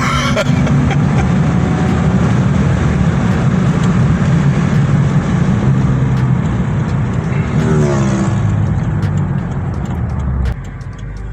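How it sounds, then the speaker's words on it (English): A 2015 Subaru WRX engine accelerates hard in fourth gear, a loud sustained roar from inside the car with road noise and a rising tone, then an abrupt drop in level near the end. "this thing pulls on fourth gear"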